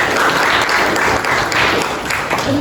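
Loud, dense applause from a group of participants at a learning-styles workshop session, steady clapping throughout with no pauses.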